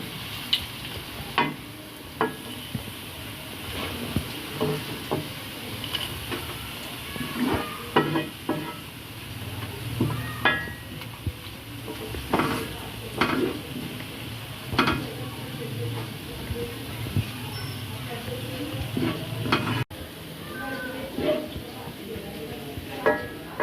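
Onions frying in oil in a pan until golden brown for chicken korma, a steady soft sizzle with repeated clinks and scrapes of a spoon stirring against the pan, no talk.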